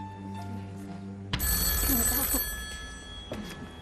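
A telephone rings on a game-show set, a bright repeating electronic bell starting about a third of the way in, loud and close, sustained over a room hum with a brief swell of studio crowd noise.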